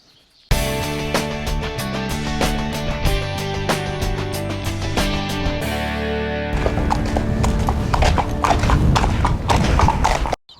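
Racehorse hooves clip-clop in a steady rhythm under a loud layer of music, the beat picking up and growing busier partway through before cutting off abruptly.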